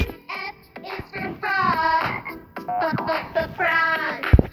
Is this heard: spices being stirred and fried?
no